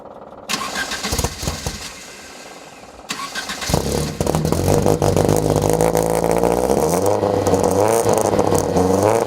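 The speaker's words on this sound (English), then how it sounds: "I love the exhaust note. It sounds fabulous for a four-cylinder." A 1967 Alfa Romeo GTV four-cylinder with a street muffler starts up and settles into a loud, steady, rising exhaust rumble. It revs with a raspy edge and fills the whole span close up, with no talk.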